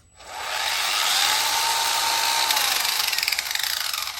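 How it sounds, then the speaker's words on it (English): A handheld power grinder shaving back wood while carving a ventriloquist dummy: a steady, loud high-pitched whine runs continuously after a quick spin-up, with a rougher, rattling edge toward the end. "The next tool that I use a lot is a grinder."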